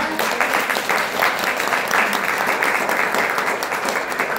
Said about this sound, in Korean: 박수로 응원 부탁드립니다.